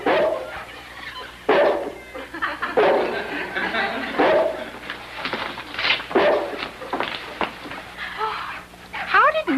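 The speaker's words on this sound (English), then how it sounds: "That's Neil's bark, but where is he?" A dog barks in short, repeated bursts from an old comedy scene, mixed with chuckling laughter and voices talking over and between the barks.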